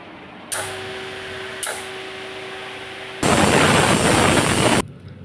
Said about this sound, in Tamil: குக்கர் மூடி விசில் வச்சாச்சு மூணு விசில் வந்தோடனே ஆஃப் பண்ணிடலாம்